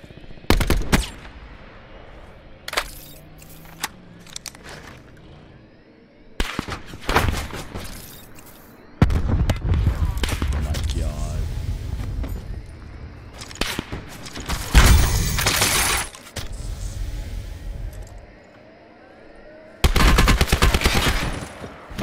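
Sniper and other gunfire in a video game, scattered sharp shots and bursts of rapid fire with loud blasts and chaotic stretches between quieter gaps, irregular and close, no voices.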